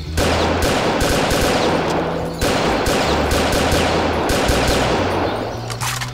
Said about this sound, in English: Oh, M14. Semi-auto. Full auto.